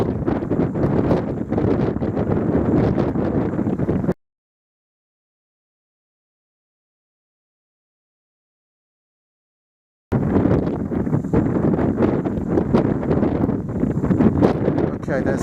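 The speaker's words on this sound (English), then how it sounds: "Okay, there's a lower wind." Strong crosswind at a rifle range batters the microphone in loud, continuous roaring gusts, broken by a long stretch of dead silence before the buffeting resumes just as hard.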